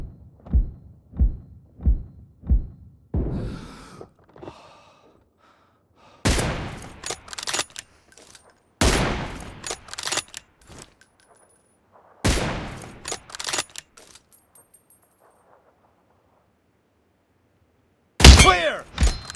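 M24 sniper rifle gunfire in the game BGMI: a quick run of close, punchy shots, then a few loud, isolated cracks spaced several seconds apart with near silence between them.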